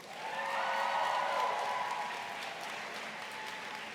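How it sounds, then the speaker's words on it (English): A crowd applauding warmly at a high school graduation, the clapping swelling quickly and then easing to a steadier patter, with no voices over it. "could you please give a warm round of applause for all those who helped you"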